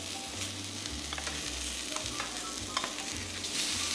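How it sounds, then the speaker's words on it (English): Beef strips fry in oil in a pan beside pushed-aside onions for a stir-fry, a steady close sizzle broken by scraping and stirring sounds, with no talking. "Then put in the beef."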